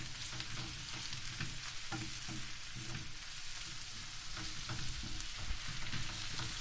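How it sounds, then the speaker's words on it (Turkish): Steady sizzling and frying of pickles with homemade tomato paste in a pan, with spatula scraping and stirring strokes throughout, close and continuous, no voices. "salçasını iyice karıştırıyoruz"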